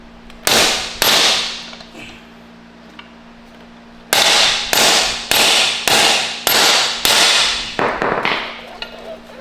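Wheel studs hammered into truck backing brackets on a Duramax pickup: a pair of loud, sharp metallic strikes, a pause, then a rapid run of about seven evenly spaced blows, close by against a faint steady hum.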